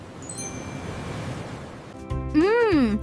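Ocean waves wash in a steady broadband roar, then a voice begins speaking over the surf near the end.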